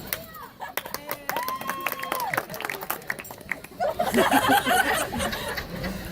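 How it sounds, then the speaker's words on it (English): Renaissance fair crowd in Gainesville cheering, laughing and clapping for a performer, a burst of applause and chuckles rising in the last couple of seconds after a stretch of voices and fair noise. "they're going to cheer for you"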